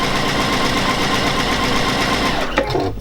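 Close and loud, a Juki DX7 sewing machine stitches continuously with a smooth motor whir and rapid regular needle clatter, then slows and stops near the end with a few soft mechanical clicks.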